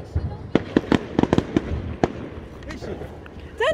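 Fireworks going off outdoors: a rapid series of sharp pops and bangs, bunched near the start and then scattered, with a crackling burst at the end and voices in the background.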